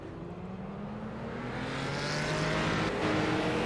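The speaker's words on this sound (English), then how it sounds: "We see the cars getting ready to roll off of pit road." Street stock race cars at New Smyrna Speedway roll off pit road for the first heat, several engines rumbling together and building steadily louder, with no voices heard.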